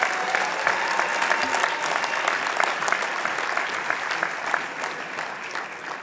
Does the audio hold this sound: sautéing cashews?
no